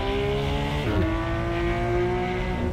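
Steady, loud exhaust howl from a race car in Assetto Corsa, holding high revs with a quick shift dip near one second, close and unbroken, no voices.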